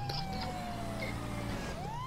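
A police car siren in the video game GTA 5 wails steadily under continuous engine and traffic noise, with rising and falling tones at moderate loudness.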